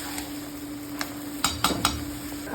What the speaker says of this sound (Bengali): ভালো করে মশলার সাথে মোচাটাকে নেড়ে ছেড়ে নেব।